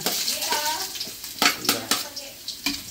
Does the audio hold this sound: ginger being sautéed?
yes